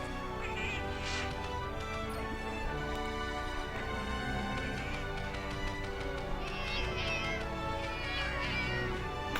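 A cartoonish cat meows repeatedly as the Prowler character in Monster Hunter Generations, a series of short mews over game music and effects.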